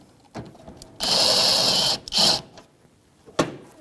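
A 10mm socket on a power tool runs down a fastener on a Nissan Maxima bumper bracket, giving a loud whirring buzz for about a second, then a shorter second burst and a faint click.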